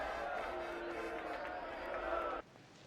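Murmur of a crowd gathered together, a steady bed of many overlapping voices and movement that continues evenly, then drops away abruptly near the end.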